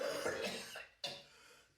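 A person coughs in a Breaking Bad scene, giving a rough throat-clearing hack and then one sharp, short cough after a brief pause. Both are close and fairly quiet, with no other sound over them.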